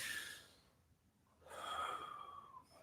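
A person breathes slowly and deeply from the belly while practising harmonica, with one long breath, a pause, then another long breath. The breathing is quiet and close.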